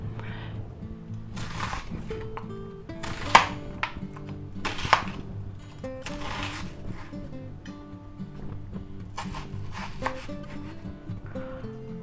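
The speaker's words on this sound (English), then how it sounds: "Let's go ahead and slice that up." A knife slicing food on a cutting board for shrimp chow mein, producing a run of irregular close chopping strokes with short pauses between bursts.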